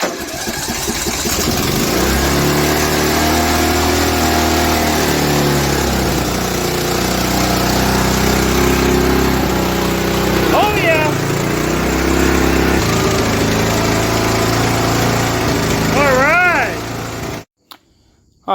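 A 2002 Craftsman LT1000 riding lawn mower's small engine runs steadily and loud at close range, its low drone holding throughout before cutting off abruptly near the end.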